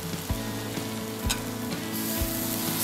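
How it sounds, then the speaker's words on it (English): Baby potatoes sizzle and fry in a pan with softened tomatoes for aloo gobi, a steady close crackle with a few stirring bumps and no talk. "Let's add the baby potatoes."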